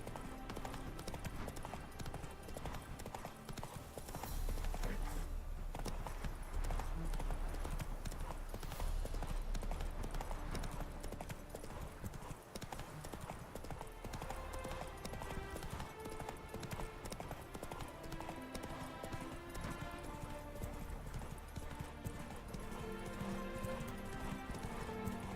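In The Witcher 3, the horse Roach trots with continuous rhythmic clip-clop hoofbeats, faint and quick, layered under game music and ambient sound.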